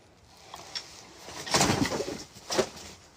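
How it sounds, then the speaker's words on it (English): A pigeon-like bird cooing a few times in short low murmurs, quiet at first and then louder near the end, close by in an otherwise hushed indoor space. "No, this is a bird."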